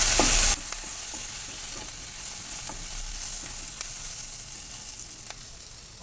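Steady sizzling of a chopped medium tomato and curry leaves sautéing in a pan for egg gravy, with light stirring scrapes now and then and a brief louder hiss at the very start.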